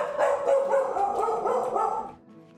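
A pet dog barks and yips at someone by the door, a continuous run of loud, close barks lasting about two seconds before cutting off into quiet, with music playing faintly from a Honkai: Star Rail game session.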